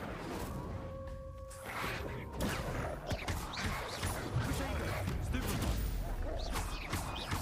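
An Incendio fire spell cast in the Hogwarts Legacy video game bursts out in sharp, crackling blasts. The whooshing impacts repeat over steady game noise and run through most of the clip.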